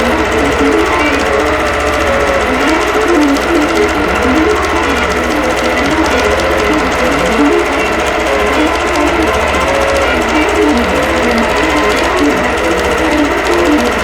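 Longarm sewing machine quilting a batik pumpkin patch appliqué panel, a steady, continuous mechanical hum and rapid stitching rhythm running loud and unbroken throughout.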